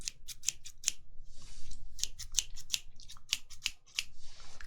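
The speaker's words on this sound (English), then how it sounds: "But we've got the scissors." Rapid snips of scissors in quick bursts, crisp and close, with short pauses between runs of cuts.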